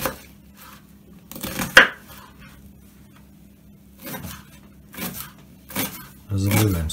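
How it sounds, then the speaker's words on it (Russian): A knife chops onion on a cutting board in a few short bursts separated by quiet gaps, close and sharp, with brief clattering between. "Для начала порежем лук."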